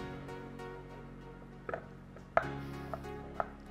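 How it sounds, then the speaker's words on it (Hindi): A knife chops carrots into pea-sized pieces, giving a few soft, sparse strikes against a cutting board over a quiet background. "मटर के साइज में ही गाजर को काटना"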